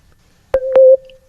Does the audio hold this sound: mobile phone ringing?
yes